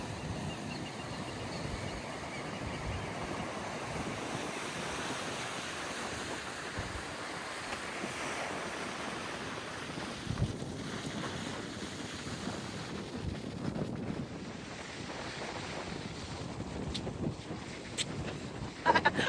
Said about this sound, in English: A big wind.